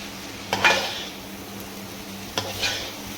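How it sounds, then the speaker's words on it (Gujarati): Schezwan fried rice is stirred in a large pot, two separate bursts of scraping and rustling against the metal with a quiet pause between them. "હવે આપણે એને મિક્સ કરી નાખશું, બધું મિક્સમાં હલાવીને."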